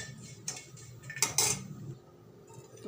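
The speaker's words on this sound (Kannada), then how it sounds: "ಕೊಬ್ಬರಿನ ಸ್ವಲ್ಪ ಫ್ರೈ ಮಾಡಿಕೊಂಡ್ರೆ ಸಾಕು." Dried coconut being stirred while frying in a pan, heard as a few scattered scrapes and light metallic clinks of a utensil against the pan, moderately close, with no talking.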